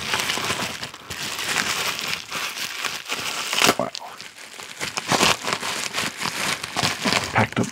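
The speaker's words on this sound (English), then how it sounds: "Always reuse the little bubble wrap stuff." Plastic bubble wrap packaging crinkles and rustles loudly up close in continuous bursts while cards are unpacked, with a voice talking alongside.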